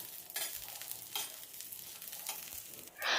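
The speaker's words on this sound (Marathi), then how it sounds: "हिरवी मिरची आणि लसूण डाग पडेपर्यंत आपण छान असे भाजून घेऊयात" Green chillies and garlic roasting on a griddle with a little oil, a soft steady sizzle with a few bursts of louder crackle and a brief scrape near the end, close and quiet with no voices.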